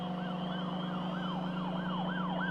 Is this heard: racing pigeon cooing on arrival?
no